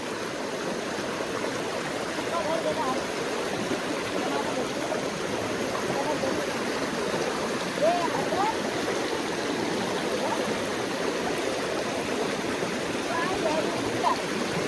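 River water rushes steadily throughout as people wade across a river in rainy-season Konkan farmland, a broad continuous wash with small splashes, and voices talk intermittently over it.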